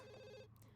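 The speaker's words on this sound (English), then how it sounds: "Someone needs to answer the phone" A telephone bell rings once, a short steady trill, faint and alone in a quiet room, cutting off abruptly.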